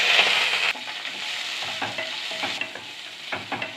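Finely chopped large onions with curry leaves sautéing in a pan for chana dal sambar, a close crackling sizzle broken by spoon-stirring scrapes, with no talking.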